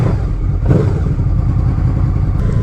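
A Honda VFR 800 V4 motorcycle engine running after start-up, a loud, close, steady low rumble with a brief rise partway through.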